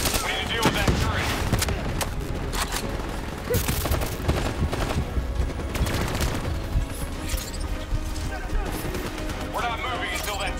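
Dense bursts of gunfire and booms fill a Call of Duty: Black Ops 3 firefight against an enemy turret, loud, rapid and continuous, with speech over the shooting.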